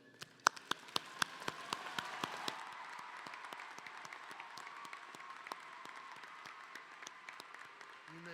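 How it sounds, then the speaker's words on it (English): Commencement audience applauding in a large hall, heard from a distance as a soft, sustained patter of many hands, with a few sharper nearby claps standing out at the start. "Please join me in applause"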